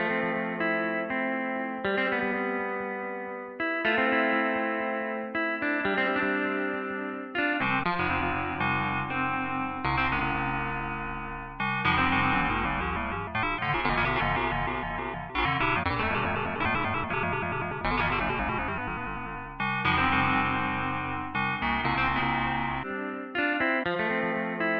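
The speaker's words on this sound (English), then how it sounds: "One of them is known as ring modulation," Synthesizers run through ring modulation play a rhythmic, looping riff with clangorous, metallic, warbling tones, steady and dense throughout with no talking.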